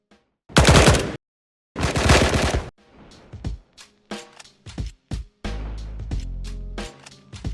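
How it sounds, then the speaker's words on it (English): UMP-45 gunfire in the video game Blackhawk Rescue Mission 5, two loud close bursts of automatic fire, then quieter, more distant-sounding shots and bursts with ringing tails. "the UMP-45 sounds different when a player is shooting compared to when a person is shooting next to them"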